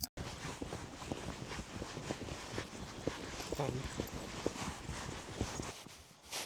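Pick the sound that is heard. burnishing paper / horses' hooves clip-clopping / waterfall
horses' hooves clip-clopping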